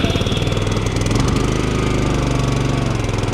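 A Honda HRX 537 lawn mower engine runs steadily while warming up just after a choke start, a loud, close, continuous mechanical drone with a dense low rumble and no talking.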